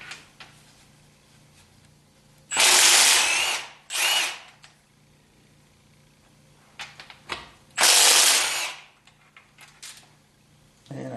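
A power tool, likely an impact gun, removes nuts from a Corvette engine block during short-block disassembly, in three loud whirring bursts separated by quiet gaps holding small metallic clicks and taps.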